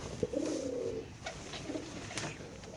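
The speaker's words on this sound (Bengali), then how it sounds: "মাশাআল্লাহ বড় সাইজের কবুতর" Large racer pigeons at a bird market cooing close by, a low throaty coo rolling for about a second, then softer calls amid faint crowd murmur.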